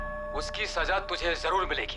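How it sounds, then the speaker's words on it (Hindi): A church bell rings steadily in the background of a recorded threat, its sustained tone sitting faintly under a man's loud, menacing speech. "पीछे घंटे की आवाज आ रही है।"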